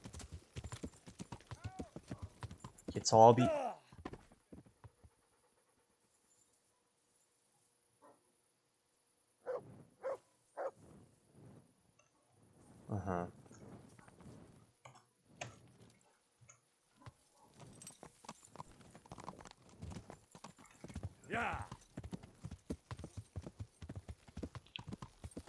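Horse hooves clip-clop in the medieval game Kingdom Come: Deliverance, the steps coming in scattered bursts over long quiet gaps, while someone talks briefly near the start and again toward the end.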